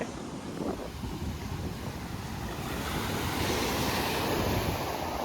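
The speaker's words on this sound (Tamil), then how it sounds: "பெரிய அலை. பாருங்க, இது வரைக்கும் வருது." Big ocean waves rushing up a beach at sunset, a continuous roar of surf with gusting wind buffeting the microphone, loud and close, with the wash swelling louder toward the end.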